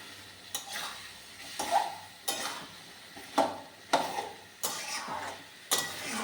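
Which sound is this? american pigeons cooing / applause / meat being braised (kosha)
meat being braised (kosha)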